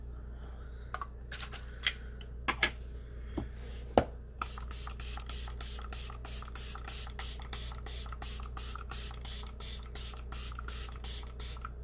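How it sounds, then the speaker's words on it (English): Setting spray misted onto the face, first as a few scattered pumps and then as a long run of rapid, evenly spaced hissing spritzes, close and fairly loud in a quiet room with no talking. "Let's spray the face."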